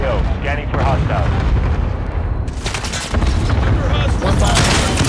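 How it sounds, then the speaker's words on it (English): Cluster strike in a first-person shooter game: loud rumbling explosions and booming blasts roll continuously across the clip, dense and close, with players talking over the barrage. "Allied cluster strike inbound."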